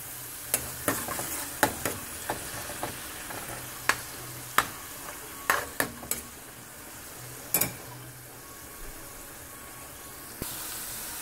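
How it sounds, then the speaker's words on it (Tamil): Onion paste frying in oil over a medium flame for egg masala gives a soft continuous sizzle, broken by a scatter of sharp clicks and taps from stirring, close and fairly quiet, with no talking. "ஆனியன் ஜூஸ் இல்லாமல் அந்த ஆனியனுடைய பேஸ்ட் மட்டும் ஆயிலில் லேசாக ஃப்ரை ஆகிட்டு இருக்குது"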